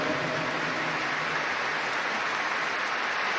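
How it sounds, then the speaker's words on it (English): Dense, continuous applause from a large stadium crowd before a football match between Arsenal and Chelsea, a steady wash of clapping with no breaks. "Rises with spontaneous applause."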